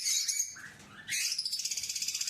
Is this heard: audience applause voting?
no